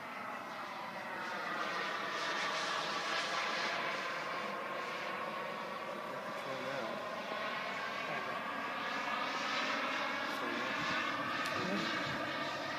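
A Douglas F4D Skyray jet's engine runs on the ground, a loud, steady roar with a sustained whine that stays nearby and even throughout.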